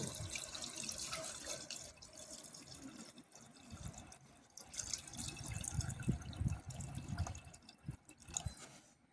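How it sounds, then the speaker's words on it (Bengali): Water is poured into a pot of mutton curry, giving a steady splashing, trickling pour at close range with brief gaps and a fuller, louder rush toward the end. "এইবার জল দেবো"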